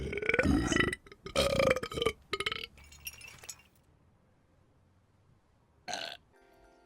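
Loud, drawn-out belches come in several bursts, with glass clinking, then quieter background and one more short burst near the end.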